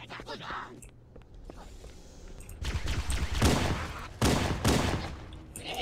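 Gunfire in the video game Halo, with a quiet lull giving way to loud, rapid bursts of automatic fire and impacts close by.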